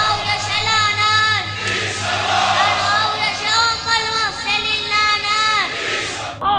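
A large crowd at a Husseiniyya in Iran chants ritualized curses in unison, with loud, sustained, rhythmic voices rising and falling in waves throughout.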